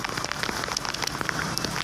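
Heavy monsoon rain pouring down, a dense steady hiss with scattered louder drop impacts, loud and unbroken throughout.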